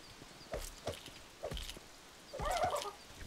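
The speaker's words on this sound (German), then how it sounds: "Das ist ein Hahn." A rooster in the survival video game Force of Nature, a few short clucking calls followed by a louder squawking gobble near the end, close and moderately loud over a quiet game ambience.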